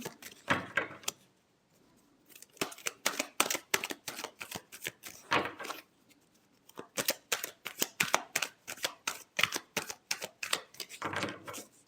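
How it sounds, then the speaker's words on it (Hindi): Tarot cards being shuffled by hand, a long run of quick, crisp riffling flicks close by, broken by a couple of short pauses and then resuming in dense bursts without any talking. "Last shuffle."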